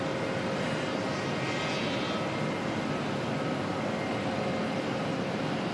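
Aircraft being manoeuvred around Auckland Airport, heard as a steady broad jet engine roar at moderate distance, continuous and unchanging throughout.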